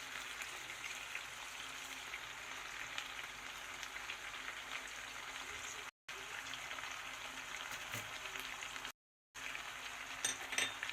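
Chicken pieces frying in a pan for chicken kosha, a steady faint sizzle and crackle running throughout with two brief dropouts.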